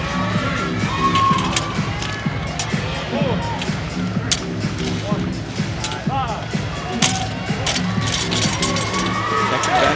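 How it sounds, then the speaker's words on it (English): Large crowd cheering and shouting at a CrossFit regional team competition on the final day, with a steady roar of voices, whoops and scattered claps throughout, fairly loud, with an announcer talking over it. "you get a good-sized crowd to cheer you on the final day of competition"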